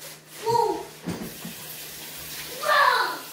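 Hot water runs from a kitchen tap during cookie baking, a steady hissing flow with a couple of brief swells, close and moderately quiet.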